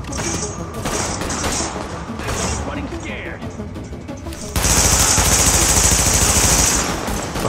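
Gunfire in The Division during a precinct siege: bursts of rapid automatic shots come in short clusters, then give way to a sustained, louder stretch of fire that dominates the back half.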